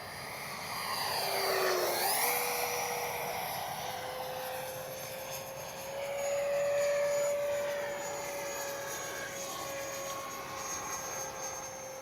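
An H-King Flycat V2 RC jet streaks past at full speed, its loud turbine whine sweeping down in pitch as it passes close, then holding a steady high drone while the engine swells and fades again.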